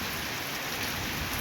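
A dense, constant downpour of heavy rain hisses loudly and evenly, close at hand, with no talking.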